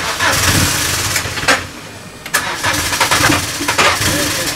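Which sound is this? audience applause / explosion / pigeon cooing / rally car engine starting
rally car engine starting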